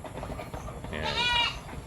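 A single short goat bleat rises briefly over a low rumbling background, faint and somewhat distant, beneath a goat shed on a farm.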